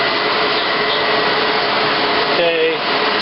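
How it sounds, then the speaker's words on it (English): A gas wok burner on a commercial four-burner wok table roaring steadily: a loud, constant rushing whoosh of flame with a brief tonal flutter near the end. "And the wok table has 4 burners and a wok burner."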